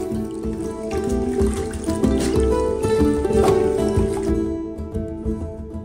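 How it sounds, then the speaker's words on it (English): Stinging nettle leaves rinse in a basin of water as tongs stir and agitate it, giving close sloshing, trickling and squishy splashes that come and go, with a steady humming tone running underneath. "I rinse the leaves of any insects, dirts, and debris, usually using a pair of tongs to agitate the water"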